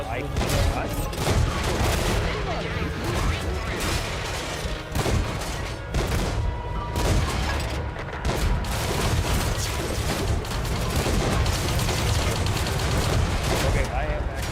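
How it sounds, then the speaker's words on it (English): Dense, continuous barrage of tank cannon fire and explosions in the World of Tanks game, booming shots overlapping steadily throughout with a talking player's voice mixed in. "Can you shoot this little white bastard?"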